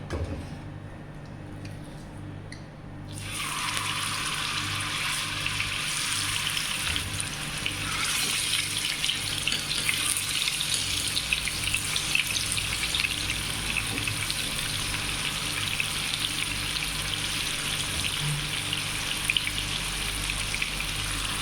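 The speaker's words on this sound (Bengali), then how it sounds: "এই যে তেল গরম দিয়ে দিয়েছি এখন মাছগুলা দিয়ে দিব এক এক করে" Fish pieces going into hot oil one by one: a quiet start, then a sudden loud frying hiss that holds steady and close for the rest, with faint scattered crackles and no speech.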